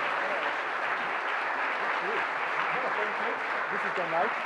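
A lecture audience greets the speaker with steady, dense applause throughout, while a voice talks over the clapping near the end.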